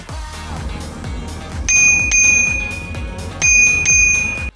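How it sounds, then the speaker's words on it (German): The handlebar bell of a NIU KQi3 Max electric scooter rings twice in close bursts, bright metallic dings repeating rapidly over a low background hum, loud and near. "Glocke aktiviert."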